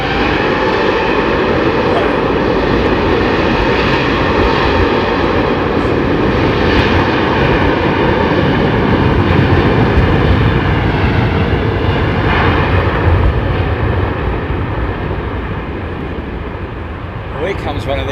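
An old Virgin Airbus A330-300 passes at Heathrow, its engines a loud, steady roar that holds close for the whole stretch and eases slightly at the end, with people talking over it.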